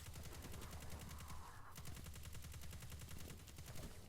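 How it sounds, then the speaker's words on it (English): Rapid automatic rifle fire from a stasis auto rifle in Destiny 2, a steady stream of evenly spaced shots that runs nearly the whole time, loud and close, with a brief dip midway. "I am using the stasis auto rifle"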